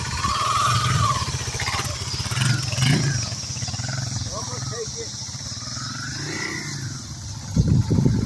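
A Honda Navi motorcycle with street tires, ridden while weaving from side to side, its small engine droning steadily and rising and falling in pitch with throttle, fairly close and continuous throughout.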